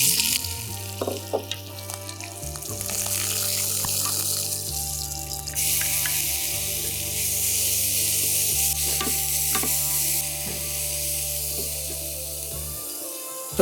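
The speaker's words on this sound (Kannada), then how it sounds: "ಈರುಳ್ಳಿ ಬೆಳ್ಳುಳ್ಳಿ ಒಂದೊಂದು ಮೆಣಸಿನ್ಕಾಯಿ ಕ್ರಶ್ ಮಾಡಿಟ್ಟಿರೋದು ಹಾಕಿದ್ದೀನಿ ಈಗ ಸ್ವಲ್ಪ ಕುಕ್ ಆಗ್ತಾ ಇದೆ" Crushed onion, garlic and green chili frying in a pan, a steady close sizzle with stirring and scraping throughout, rising into a brighter, hissier crackle midway, with no talking.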